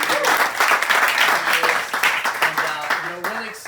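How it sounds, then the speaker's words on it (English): Audience applause fills a training event hall, a dense, steady wash of clapping that runs the whole time while voices carry on over it. "round of applause"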